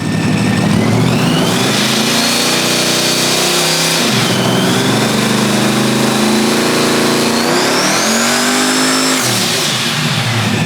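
A car engine that has lost horsepower revs hard and loud with a throaty open exhaust, pitch climbing, dropping, then climbing again in two sustained surges.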